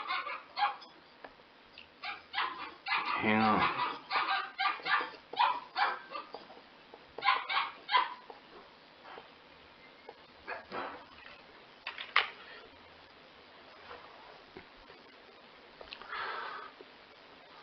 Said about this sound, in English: Sorry about the dog crying.